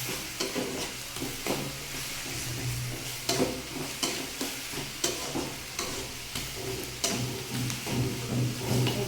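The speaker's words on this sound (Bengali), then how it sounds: "নেড়ে চেড়ে দেবো, সমস্ত শাকের গায়ে যেন তেলটা মিশে যায়।" Mixed leafy greens being stirred and tossed in hot oil in a pan, a loud close sizzle with repeated scraping and clattering strokes of the spatula throughout, no talking.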